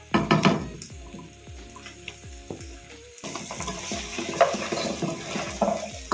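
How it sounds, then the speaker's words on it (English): Onions and beef browning in a pan with ginger garlic paste added, a close sizzle with repeated spoon stirs and scrapes, the frying growing denser and louder partway through. "As the onions are browning, the onions and the beef, we're just going to add in our ginger and garlic paste."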